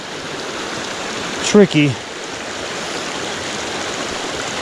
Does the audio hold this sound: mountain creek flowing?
yes